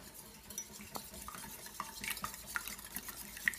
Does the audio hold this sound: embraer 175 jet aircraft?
no